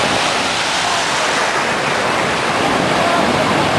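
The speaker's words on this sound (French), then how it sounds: "Moi je vais recevoir des vagues d'en face, c'est certain là." Ocean surf at the shore during a summer trip to Wildwood: a loud, continuous broadband roar of breaking waves, steady throughout with no distinct individual crashes.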